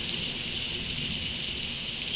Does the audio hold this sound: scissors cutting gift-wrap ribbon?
no